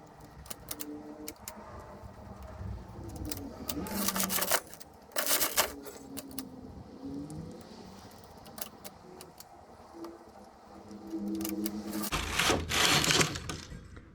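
A hand-operated knitting machine working vertical-stripe rows in knitting, with repeated carriage sweeps that rattle and clack across the needle bed, plus a few louder swishes, close up and steady without speech.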